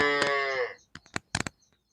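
A cow gives one deep, loud moo nearby while cows are watered, followed by a few sharp clanks and knocks of a metal basin being handled.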